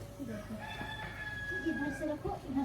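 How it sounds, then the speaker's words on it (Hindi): A rooster crows in Pahalgam on a rainy day. The drawn-out crow is heard at moderate distance under and between people talking nearby. "मुर्गा इतना लेट क्यों उठा आज?"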